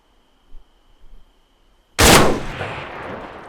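A single sharp rifle shot in ArmA 3 bursts out of near silence, loud and close, followed by a rolling echo that fades slowly over the next second and a half.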